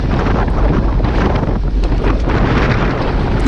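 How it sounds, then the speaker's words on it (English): Loud, steady wind roar buffets the microphone while cycling fast into a headwind on a windy group road ride, a continuous rushing blast with no pauses. "We're going into the wind here."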